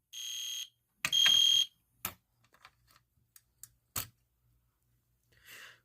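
An EST Genesis fire alarm sounds during a system test with a few shrill tonal bursts, then scattered clicks and taps and a last faint tone at the end. No voices.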